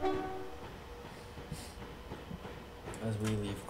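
A Class 390 electric train in Train Simulator 2014 pulling out of Glasgow Central, a steady rolling rumble with rail noise and a brief horn-like tone near the end, under someone talking.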